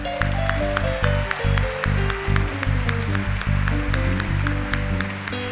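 During a Catholic priest's sermon, the congregation applauds in a steady patter of clapping beneath sustained music-like tones.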